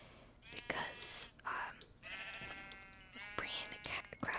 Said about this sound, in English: I think I want to kill some more sheep